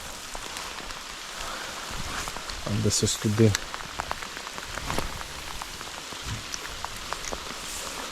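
Heavy autumn downpour in Ukraine pattering steadily on surfaces close by, with a few brief spoken words and some handling noise midway.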